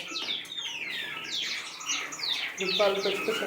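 A pair of pineapple conures kept as pets in a home bird room, giving shrill, rapid chirps and squawks close by in quick overlapping bursts, with faint talking underneath.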